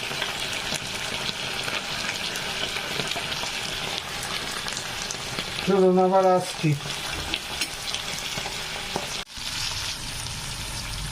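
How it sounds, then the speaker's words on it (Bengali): Flat beans fry in a pan, giving a steady, close sizzle and crackle throughout, with a brief clatter as they are stirred midway and a short spoken line. "সিমগুলো কিন্তু আমি ভাজছি হালকা আছে"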